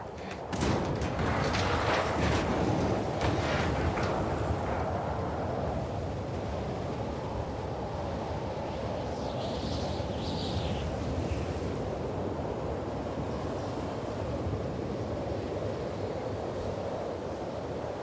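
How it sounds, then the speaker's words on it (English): Steady gusting wind blows through a stormy outdoor area in The Last of Us Part II, a broad continuous roar holding at an even, fairly loud level for the whole stretch with no voices over it. "It's pretty windy."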